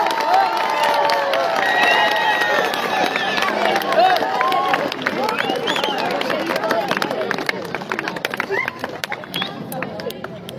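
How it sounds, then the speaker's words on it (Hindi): Scattered claps and cheers from a crowd at a school prize ceremony, ringing out between bursts of babble and a presenter's amplified voice, thinning toward the end. "मोहम्मद अली साहब पीटी स्कूल हाजा के लिए बहुत ढेर तालियां और इनाम"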